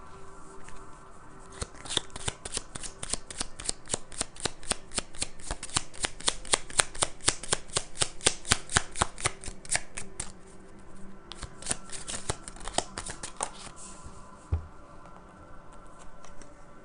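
Tarot cards are shuffled in a long, close riffling run of rapid papery flicks that slows and stops briefly, then resumes in a shorter burst, with no talking over it.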